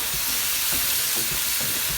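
Tomato puree stirred into a hot pan on the stove, a loud steady sizzle and hiss of frying with a few soft scraping stirs, close and continuous, with no talking.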